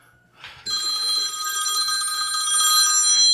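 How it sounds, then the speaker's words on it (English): A phone rings with an incoming call, a loud, steady electronic trill that starts after a brief quiet moment and keeps going without a break. "My wife is getting a phone call."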